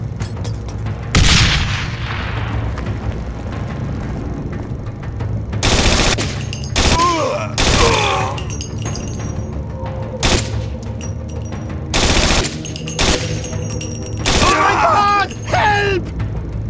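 Grenade blasts and bursts of rapid gunfire in the Wolfschanze 2 war video game, loud booms and crackling automatic fire recurring across the scene, with shouted voices between.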